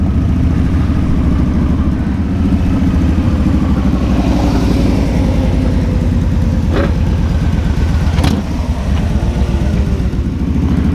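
A large pack of motorcycles sets off together on a charity ride. Dense, loud engine rumble holds steady throughout, with a few sharper revs cutting through near the end.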